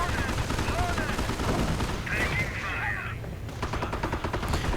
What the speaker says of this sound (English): Tiger's in fact taking quite a bit of damage from the anti-tank gun.